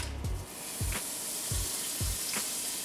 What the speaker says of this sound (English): 3 tablespoons of butter, right into our pot.